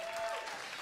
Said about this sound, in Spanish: Un mucho aplauso, amor, gracias.